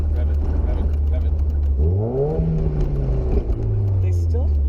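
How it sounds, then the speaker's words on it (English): An NA-generation Mazda Miata MX-5 engine idles and then revs up in a rising, rasping sweep before settling, heard close by with people talking over it. "I gotta rev your engine."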